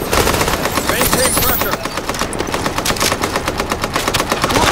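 Rapid automatic gunfire from The Division video game, fired in long, fast bursts that stay loud and close, with brief gaps between volleys.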